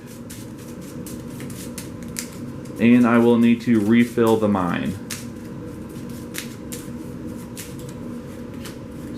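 Cards from the Thunderstone Quest board game are shuffled close up, a long run of quick crisp riffling clicks at a table, with someone talking briefly over the middle of it.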